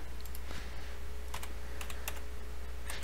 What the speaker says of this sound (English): Just gonna type out GIMP here.